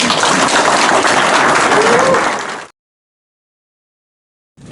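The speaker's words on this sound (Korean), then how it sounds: "좋은 강연해 주신 장관님께 박수로 우선." Lecture audience applauding a former foreign minister after his special lecture at a Korean foundation event: loud, dense clapping for over two seconds that fades, then silence until a new sound begins at the very end.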